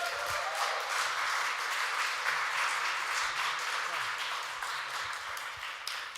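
Audience applause at a Library Late poetry and spoken-word event, steady dense clapping with cheering texture filling the room from start to finish, fairly distant and even in level.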